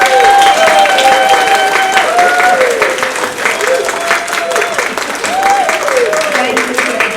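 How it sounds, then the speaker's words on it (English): Loud, sustained clapping from a comedy show audience fills the room while warbling tones and voices run over the top, the applause holding steady throughout. "please applaud."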